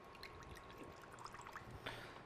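Juice pours from an opened tin of pineapple rings in a kitchen, a soft continuous trickling that stays faint and steady throughout, with no talk over it.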